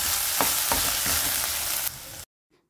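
Onions with ginger garlic paste sizzle and fry steadily in a pan, a continuous close hiss with a few stirring scrapes, cutting off abruptly to near silence at the end.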